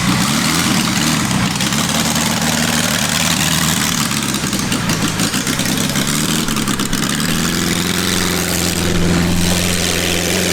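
A tuned four-cylinder military go kart engine runs loud and close, a continuous droning rumble that holds steady throughout and shifts pitch slightly near the end.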